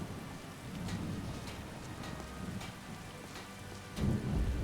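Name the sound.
rain and thunder in a video game (Skyrim)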